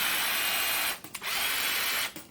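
A drill spins a homemade air duct cleaning brush in a continuous whirring buzz, close and steady, with two brief dips where the motor slows before spinning up again.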